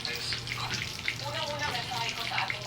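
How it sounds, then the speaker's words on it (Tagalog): Water bubbling and churning in a cooking pot as it comes to a boil for sweet potato leaves, a steady broadband wash with faint hum underneath, close and continuous with no talk. "Kumulo na yung tubig."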